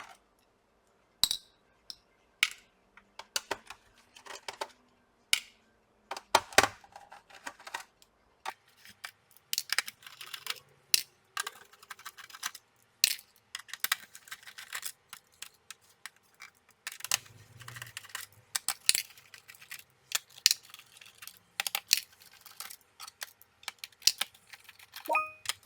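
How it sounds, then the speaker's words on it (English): Screws come out of a Lenovo B590 laptop as a small screwdriver works, with sparse, faint clicks, ticks and light metallic taps scattered irregularly over a quiet background. "Now we need to remove the rest of the screws."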